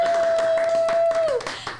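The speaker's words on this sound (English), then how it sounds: "Everybody give a round of applause." A few people clap sparsely at close range on a family podcast, with a sustained whistle-like tone that bends downward near the end and someone talking over it.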